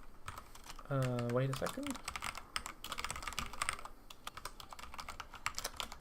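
Fingers tap steadily on a computer keyboard in quick, irregular clicks at moderate volume, with a brief spoken phrase near the start and faint music underneath.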